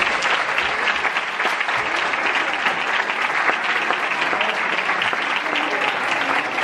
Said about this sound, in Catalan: un fort aplaudiment i fins una altra